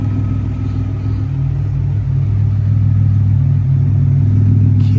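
A 1986 Buick Grand National turbo idles with a steady, deep exhaust rumble, close and loud, holding an even throb throughout with no talk.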